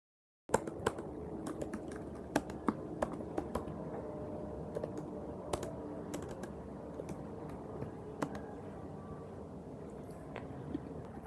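Rapid, irregular clicking of keys on a computer keyboard while code is typed on a Mac, close and crisp with occasional louder strokes, no speech.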